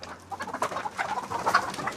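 Fayoumi chickens kept on a rooftop give a busy mix of short clucks and calls, several birds at close to moderate distance, with no talking.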